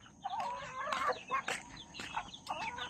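Chickens cluck in a series of close, short calls and squawks at a backyard pigeon and poultry coop, the clucks coming in quick irregular bursts.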